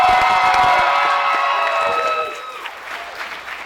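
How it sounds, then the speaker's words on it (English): Wedding guests cheer and clap loudly for the couple at the ceremony, with whoops and shouting over applause that fades toward the end. "when we celebrate and cheer for Brett and Chelsea today, I need you guys to get loud"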